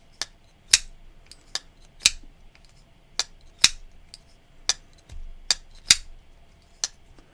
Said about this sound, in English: great detent to make a washer knife easily flickable